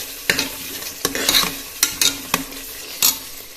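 Biryani masala frying in a pan for a chicken biryani, stirred with a utensil: a steady sizzle with several sharp scrapes and clinks of the spoon against the pan, close and fairly loud, no talking.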